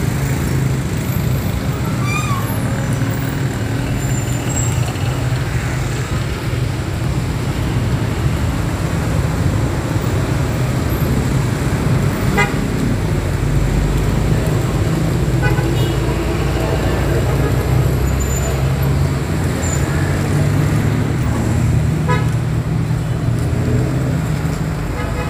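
Steady road traffic in Sukabumi, Indonesia, along the route from the BOCIMI toll exit toward town, a loud continuous roar of cars, buses and trucks passing close by with no clear break.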